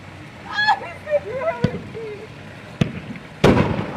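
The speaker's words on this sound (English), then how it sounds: "This got fireworks in the backyard!" Backyard fireworks bursting at night during a birthday celebration, with several sharp cracking bangs spaced apart, the last one loudest with a crackling tail, while excited voices talk and exclaim underneath.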